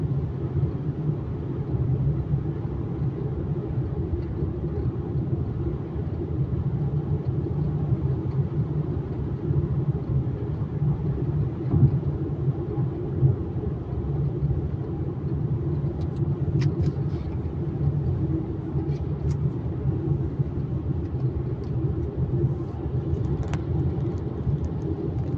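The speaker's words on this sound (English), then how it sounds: "Clean, new, 2 mile long tunnel" A car drives through a clean, new two-mile road tunnel in China, with a continuous low, enclosed rumble of tyres and engine that holds steady and close throughout, alongside faint light ticks.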